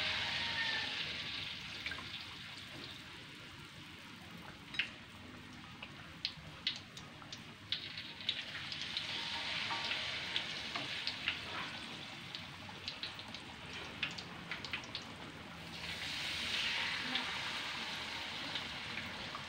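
Peanut cracker batter frying in hot oil, a continuous sizzling hiss that swells and eases, dotted with small sharp pops and crackles throughout, close by with no talking.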